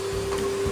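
Vacuum cleaner running while a child's room is swept, a steady close motor whine with a constant tone and rushing air, brief and uninterrupted.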